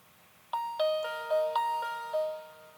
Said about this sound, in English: If you turn it on, you can hear this brand new opening sound.